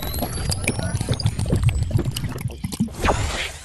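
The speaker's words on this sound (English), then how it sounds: "We got our refill. Pour out the cup." Water splashes and gurgles briefly as it pours into a cup in a home kitchen, close and moderately loud, with some scattered background noise.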